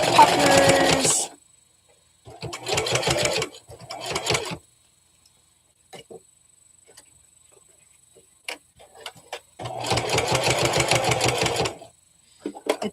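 A domestic sewing machine stitches fabric in several bursts of rapid, rhythmic whirring and clatter, separated by pauses with faint clicks and handling noises.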